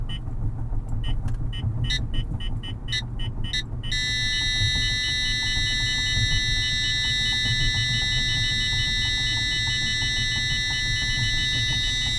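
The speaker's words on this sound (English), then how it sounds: "And then X50 went to a full alert" An X50 radar detector gives a K band alert: a fast run of electronic beeps ramps up into a continuous full-alert tone over steady road noise inside a moving car.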